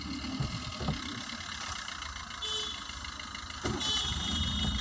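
A car engine idles steadily at close range as a learner driver lets the clutch up in first gear in narrow lanes, giving a constant low hum that swells slightly toward the end with no talk.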